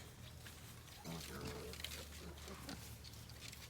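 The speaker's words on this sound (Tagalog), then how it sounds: "Nahuli na nila ang ating mga biik." Piglets being caught in a farm breeding pen, heard as a dense, constant wash of squealing and grunting with scattered louder squeals over steady background noise.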